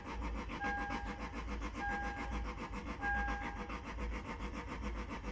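Manual turbocharged Lexus IS300 with a suspected clutch fault, cold-started after three weeks sitting, running with a steady rough, raspy engine drone that pulses rhythmically, loud and close, with no talking.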